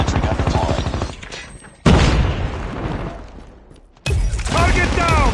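Sentry gun firing in a Call of Duty Mobile Hardpoint match, bursts of loud gunfire in several sections with abrupt cuts between them, a game announcer voice speaking over part of it.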